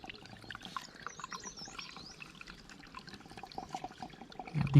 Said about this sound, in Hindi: एकदम साफ पानी ज़मीन के अंदर से निकल रहा है।